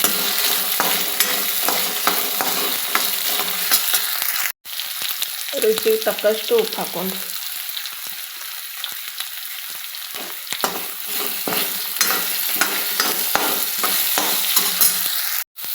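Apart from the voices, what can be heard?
potatoes being stirred and fried in a pan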